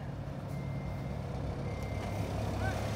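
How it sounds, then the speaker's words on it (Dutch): A Scania S770 V8 truck idles with a steady low engine rumble while its extendable trailer retracts its two sections, a continuous close mechanical drone with no clear separate clunks. "En dan gaan we nu laten zien hoe die dus inschuift."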